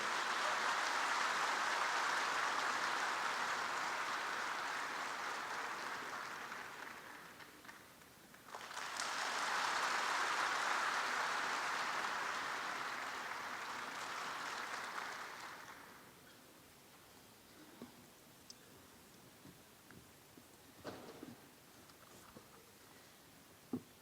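An audience at an İYİ Parti event, the Kanal İstanbul workshop, applauds to welcome party leader Meral Akşener to the stage. Two long bursts of dense, steady clapping are separated by a short lull, then fade to near silence with a few scattered sounds.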